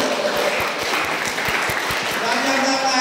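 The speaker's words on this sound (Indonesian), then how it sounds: "Tepuk tangan." Applause from an audience during a Catholic religious talk, steady clapping with rhythmic thumps underneath and some voices mixed in.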